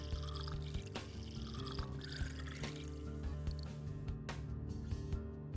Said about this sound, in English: Pour some water in test tube A.